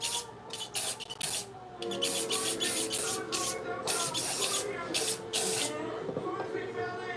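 Several short bursts of cleaner sprayed onto electric hair clippers, a rapid run of hissy pumps with brief gaps, fairly close, over a steady low background hum.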